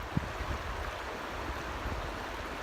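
A river flows over and around rocks with a steady, soft rushing babble, faint and continuous, with a few small splashes near the start.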